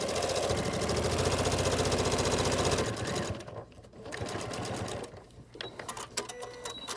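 Sewing machine top stitching the hem of a fabric mask, a fast steady mechanical whir with rhythmic needle clatter that stops, restarts briefly, then gives way to light handling noises.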